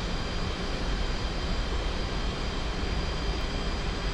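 Jet engine of an F-5E Tiger II taxiing toward the runway in the DCS flight simulator game, a steady, loud broadband roar that holds constant throughout without any talk.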